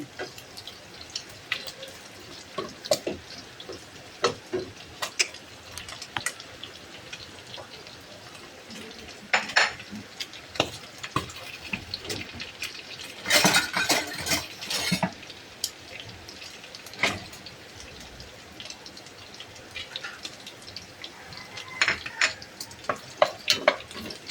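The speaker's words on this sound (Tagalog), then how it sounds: "Yan, nagigisa na. Bawang muna. Gisay kong mabuti pa." Garlic sautés in a pan for chopsuey, crackling and sizzling while a utensil stirs it with frequent sharp scrapes and clinks, and a louder burst of spattering comes partway through. No speech is heard.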